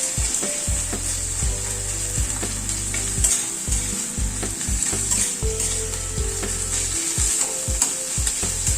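Crushed ginger, garlic, green chili and onion sizzle in a pan for a chicken curry, a steady close fry broken by repeated scraping and stirring knocks of a spatula, with no talking.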